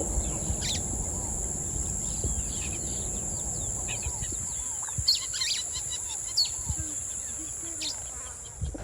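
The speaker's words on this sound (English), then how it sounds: "You can hear birds." Scattered bird chirps and calls ring out near cave cliffs at Chimani Cave in Zimbabwe, over a dull background rumble, with a steady high insect-like tone running throughout.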